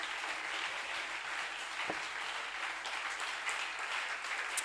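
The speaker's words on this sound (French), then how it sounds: "Est-ce qu'on peut d'abord acclamer Dieu pour ses bénédictions?" A church congregation at a Sunday service applauds to praise God, a dense, steady wash of many hands clapping that holds throughout at moderate distance.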